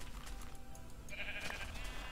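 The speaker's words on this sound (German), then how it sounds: "Oh, noch mehr Schafe." Sheep in the Minecraft video game bleat once in a short, mid-loud call over a steady game ambience, with no one talking.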